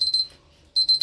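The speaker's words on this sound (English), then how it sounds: "That's the sound of the alarm going off." A kitchen timer alarm beeps in rapid, bright electronic bursts during stovetop cooking, a loud close pattern that pauses briefly and then resumes, with no talk.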